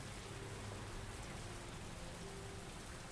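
Steady rain from the video game Heavy Rain, a constant soft hiss of falling drops with no talk.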